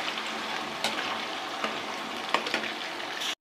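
Taro (arvi) fries in a pan over a medium flame for a dhaba-style masala, giving a steady, close sizzle with a few faint scrapes and clicks scattered through it and no talking.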